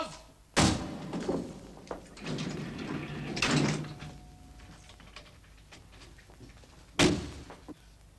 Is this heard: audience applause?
no